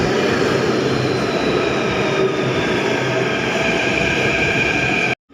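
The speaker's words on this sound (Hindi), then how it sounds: "तो मेट्रो आ गई, पकड़ते हैं मेट्रो।" A Delhi Metro train pulls into the station at Mandi House with a steady, loud rumble of wheels and rails and a faint high whine, ending abruptly.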